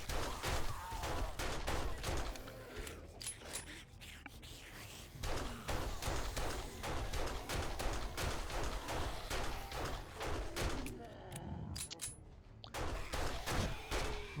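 Pistol gunfire in the zombie-survival game 7 Days to Die, a long run of sharp, rapid shots fired close in quick succession, with brief pauses and faint voice in between.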